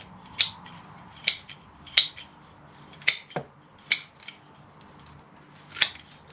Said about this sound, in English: We do like the cutting action of the greenwood scissors, and we'll get this bottom layer of roots removed.